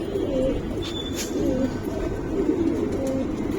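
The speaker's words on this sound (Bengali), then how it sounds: "এই যে দেখেন কবুতর মাসাল্লাহ" Giribaz pigeons coo in soft, repeated low calls, several birds close by, with faint chirps and steady background noise and no speech.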